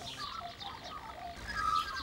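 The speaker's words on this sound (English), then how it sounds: "the sounds of the birds emanating, the magpies" Magpies and other birds call in a quiet rural Australian garden, faint warbling and chirping at a distance over soft outdoor ambience.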